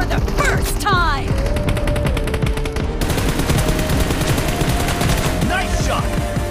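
Rapid bursts of automatic gunfire from the PUBG Mobile Evoground Ruins map in a team match, loud and continuous with quick repeated shots, layered over game effects.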